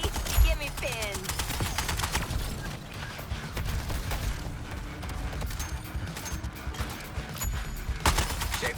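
Gunfire from the game Suicide Squad: Kill The Justice League, with repeated shots and fusillade bursts mixed with impacts and mechanical clatter over several seconds while characters talk over the action.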